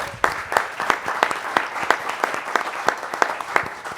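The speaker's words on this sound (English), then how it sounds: "Please give him an applause." An audience at a panel event on Latino voter polling breaks into steady applause, a dense patter of many hands clapping close by with rhythmic peaks, lasting the full stretch with no talking.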